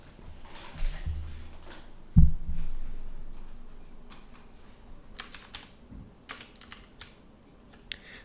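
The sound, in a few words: typing on a computer keyboard, pressing alt enter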